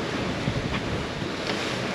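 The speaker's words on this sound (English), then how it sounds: "all this water is coming from here, it's rushing through here" Tidal water rushes through a ship channel in the Bahamas at low tide, a broad continuous surf-like wash mixed with wind buffeting the microphone, loud and steady, heard from aboard a Leopard 45 catamaran.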